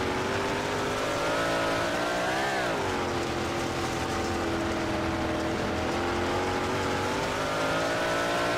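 Big block dirt modified race cars run side by side at Lanier Speedway in iRacing, their engines a loud, continuous roar that rises and dips briefly through a heat race.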